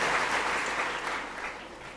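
An audience claps together in a steady, fairly close round of applause that holds evenly for two seconds and fades slightly at the end.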